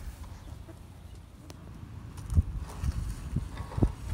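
Farm chickens cluck softly at close range, with a few scattered short clucks becoming more frequent toward the end over a faint outdoor background.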